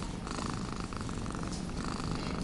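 A white marbled cat purrs steadily and close by, a continuous rumbling purr that fills the whole stretch with no talk over it.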